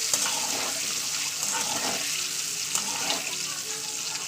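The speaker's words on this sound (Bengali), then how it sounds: "যেহেতু প্রথমে আমি ডিমটা ভাজা করব" An egg fries in oil seasoned with salt and turmeric in a pan, giving a loud, steady close-up sizzle with crackling spits throughout and no talking.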